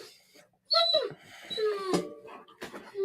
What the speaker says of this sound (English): Yona's upset because his mama taking one of the other dogs for a WALK